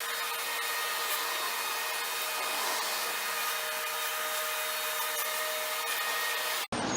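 Gunstock wax is rubbed onto a wooden tool handle, a continuous loud, even rubbing hiss that runs without pause and cuts off abruptly at the end.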